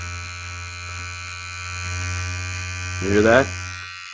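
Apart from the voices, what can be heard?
electric body hair trimmer buzzing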